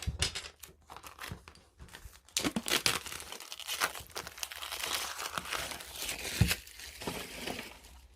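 A cardboard pull-open box is torn and pried open by hand, giving close, irregular bursts of crinkling, tearing and crunching card over about eight seconds, with no talking.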